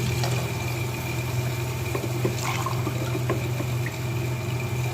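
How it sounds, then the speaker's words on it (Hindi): Water is poured steadily into a pot of rice for chana pulao, a continuous close splashing fill that runs on without talk. "अब मैं इसमें क्या करूँगी, पानी डाल दूँगी।"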